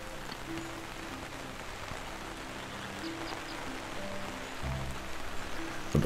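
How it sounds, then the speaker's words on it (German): Rain from irrigation in the farming video game Farmers Dynasty falls as a steady, soft hiss of droplets over a low, faint background tone, growing slightly louder toward the end, with no talking. "jetzt müssen wir hier Regen machen"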